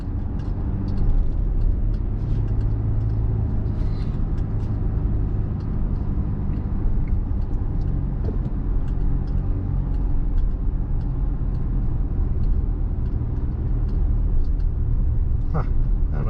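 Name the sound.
car driving on road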